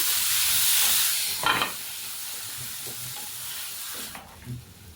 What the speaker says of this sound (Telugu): ఆనియన్ వేసామండి తర్వాత ఈ టమాటా కూడా వేసేయండి చింతపండు కూడా వేసేయండి వీటన్నిటినీ కాస్త కలర్ చేంజ్ అయ్యేంత వరకు మగ్గనివ్వండి